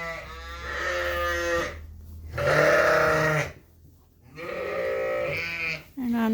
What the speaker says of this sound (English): This is the adopted ewe lamb.